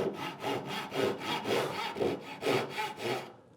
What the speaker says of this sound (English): I'm going to cut down here, but I'm going to cut well away from my line.